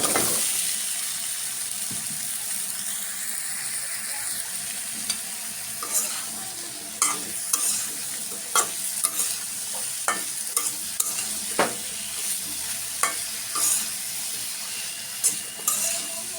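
Potatoes and eggplant stir-fry in a spice paste with a steady, close sizzle, punctuated by repeated scraping and clacking strokes of a spatula against the pan that grow more frequent toward the end.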